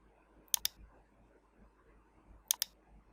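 Two quick double clicks of a computer mouse, quiet and close, spaced a couple of seconds apart over faint room hiss while selecting a Windows 7 ISO file for a bootable USB drive.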